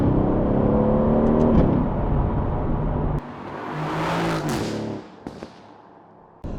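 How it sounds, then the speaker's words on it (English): An Aston Martin car on the move: its engine hums and whirs loudly with a rising rev, then drops to a quieter steady drone midway, with brief clicks near the end. "I thought we could go out for a drive today in the Aston Martin"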